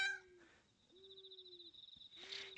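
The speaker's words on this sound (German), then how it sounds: "Oh. Das war eine Katze." In the video game Yamawari: Lost in the Dark, a cat gives a few soft, drawn-out meows at low level, with quiet ambient game sounds in the background.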